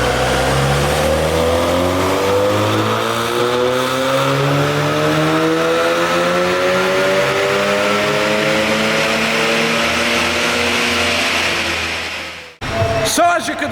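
A tuned VW Golf R, Stage 2 Plus, revs hard on a dyno, its loud engine note climbing steadily through the gears for about twelve seconds before cutting off abruptly, followed by a brief clatter.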